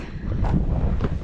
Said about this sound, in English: It's a chilly wind.